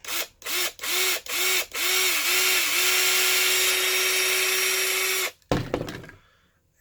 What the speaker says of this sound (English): so that we can drill through the hole and make sure that it is centered.